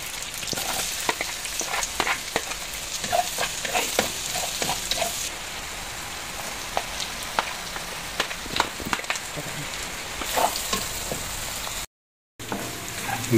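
Lots of garlic frying in butter for fettuccine, a steady close sizzle with crackling pops and occasional stirring scrapes, continuous and fairly loud, broken by a brief dropout near the end.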